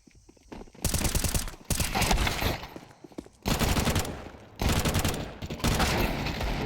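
Pistol gunfire in a Counter-Strike 2 match, loud clustered bursts of rapid shots in three or four volleys separated by short lulls.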